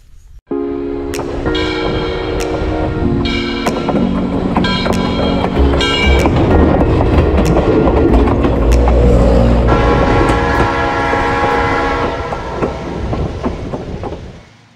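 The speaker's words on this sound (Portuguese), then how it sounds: "Tá chegando o trem." A Locotrol train with BB36-7, U20-C and G12 locomotives runs past close by, a loud steady rumble with rhythmic clickety-clack of wheels on rail joints and sharp horn-like tones, fading at the end.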